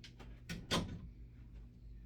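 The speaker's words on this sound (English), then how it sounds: "I'm going to close this door so you don't get away." An interior door is pushed shut in a home where a cat is nearby, giving a close, brief thud with some handling clatter just before it, then a quiet room afterward.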